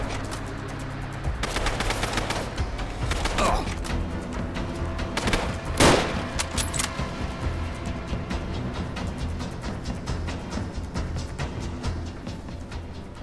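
Gunfire in Fallout: London, with rapid repeated shots and bursts throughout and one louder crack near the middle, heard alone without voices.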